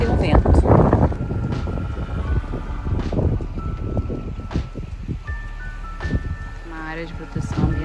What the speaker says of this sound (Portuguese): Só acho que tem um vento.